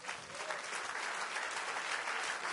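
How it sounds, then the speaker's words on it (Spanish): A church congregation applauding in praise during a Spanish-language service, continuous dense clapping from many hands that fills the room evenly and holds steady throughout. "Dale un aplauso al Señor"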